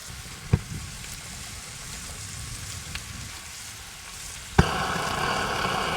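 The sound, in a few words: stirring taco fillings frying in a pan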